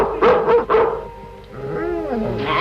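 A dog barks loudly and close by, three quick barks in a row, then whines and whimpers in high, wavering tones.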